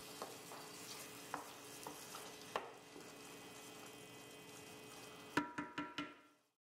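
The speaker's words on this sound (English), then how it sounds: "Stir the Kalamata olives to combine." Tomato sauce with Kalamata olives is stirred in a pan, giving a soft, quiet simmering sizzle with a few spoon scrapes, then a cluster of sharp utensil taps against the pan near the end before it falls silent.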